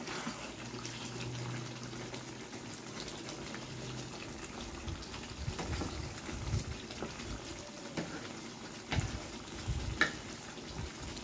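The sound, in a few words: black chicken meat sizzling as it is stirred in the pan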